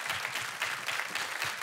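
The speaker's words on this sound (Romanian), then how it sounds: "Aplauze pentru juni!" Audience applause for the juni dancers at a Romanian folk music show, dense continuous clapping from a crowd, fairly faint and distant, with no voices.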